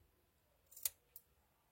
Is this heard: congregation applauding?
no